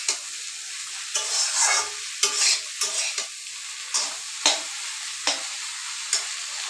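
Dheki saag (fern greens) stirred and frying in a pan, with a steady sizzle broken by repeated scraping stirs at a loose, uneven rhythm, close up and with no voices.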